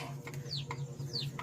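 Chickens clucking and chirping in short repeated calls at feeding time, fairly close, over a steady low background hum.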